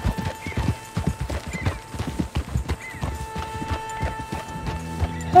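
A horse gallops in Red Dead Redemption 2, its hoofbeats pounding in a fast steady rhythm, close and prominent from start to finish, with a whinny near the end.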